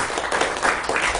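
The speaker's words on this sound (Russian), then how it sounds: "мы хлопаем, чтобы время сэкономить" An audience at a library poetry reading breaks into brief, dense applause, many hands clapping together in a close, steady burst with faint voices mixed in.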